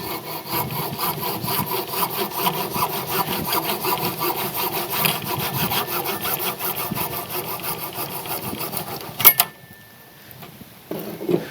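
A handsaw cuts an angled point into the end of a wooden stake for a whip target stand, with steady back-and-forth strokes running for about nine seconds before stopping, followed by quiet.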